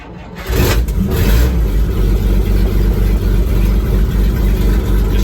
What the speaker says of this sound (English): Got to keep the RPMs up till he warms up a bit.